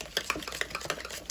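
Salt and pepper being stirred into mashed potatoes, a string of soft, close scraping and squelching strokes in an irregular rhythm, with no talking.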